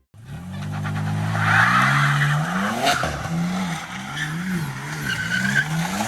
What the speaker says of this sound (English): The tire is scraping on the ground.